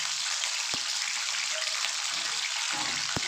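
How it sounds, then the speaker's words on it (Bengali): Flat beans frying lightly in hot oil with a little salt, giving a steady close hissing sizzle throughout, with two sharp clicks of utensil contact. "তেলটা গরম হলে আমি শিমটা ভেজে নেব কিচ্ছু না শুধু শিমটাকে একটু লবণ দিয়ে হালকা করে ফ্রাই করে তুলে নেব"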